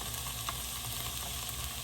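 Diced garlic sizzles and crackles in a frying pan, a soft, steady frying hiss heard alone at fairly low level.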